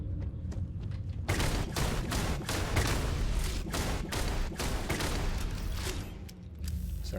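Dense, continuous gunfire in the video game Starfield Shattered Space, rapid overlapping shots that start abruptly and keep up loud and close for several seconds with a brief dip near the end.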